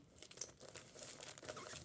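A paper surprise packet crinkles and rustles in small, close crackling bursts as it is pressed down and glued in place, faint and steady with no talk.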